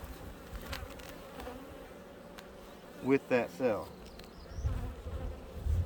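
Honey bees buzz around a queen cell inside an open hive, a steady close insect drone with louder passes of individual bees, while a voice speaks briefly.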